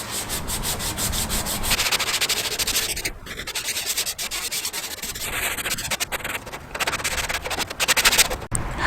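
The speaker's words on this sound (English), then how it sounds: "I've finished sanding all of the front face of the shed" Sanding the wooden front face of a shed before painting it black: continuous close rubbing and scraping strokes in a quick, uneven rhythm, with brief pauses between passes.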